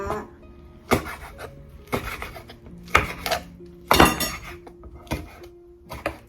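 A knife chops spur chili peppers on a cutting board for a Thai green curry with lamb: about six sharp, separate knocks roughly a second apart, close and fairly loud, with light scraping between strikes.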